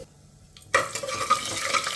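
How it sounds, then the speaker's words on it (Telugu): Tempering spices (coriander seeds, fenugreek and cumin) crackle and sizzle in hot oil after a sudden onset, a steady close frying hiss with small pops. "పోపు దినుసులు వేగిపోయాయి"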